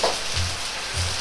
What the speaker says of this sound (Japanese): ごぼうを入れて炒めていきます。